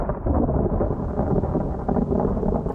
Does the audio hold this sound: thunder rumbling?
yes